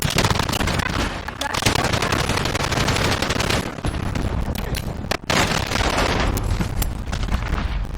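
Rapid automatic gunfire from Call of Duty: Modern Warfare fills the clip as a dense, loud, continuous burst of shots with game explosions mixed in, and brief gaps near the middle.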